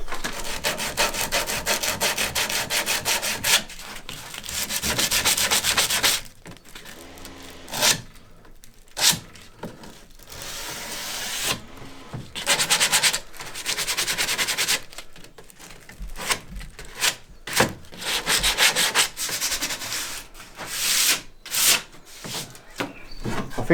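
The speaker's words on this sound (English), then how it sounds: "let's do a little bit of sanding" Rough, rhythmic rasping of sandpaper on wood, in repeated back-and-forth strokes with short pauses between bursts, close and loud.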